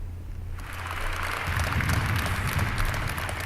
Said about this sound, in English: Please give him a warm applause and start.